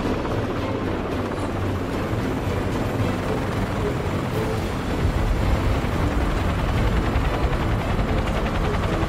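A landing helicopter drones steadily and loudly throughout, its dense rotor and engine roar filling the whole stretch without pause, in an audio drama.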